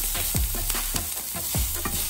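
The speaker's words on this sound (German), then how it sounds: "Ich gebe jetzt in die heiße Pfanne noch etwas Öl." Onions sizzling and frying in hot oil in a pan, with steady crackling and repeated scraping stirs, close and loud with no talk.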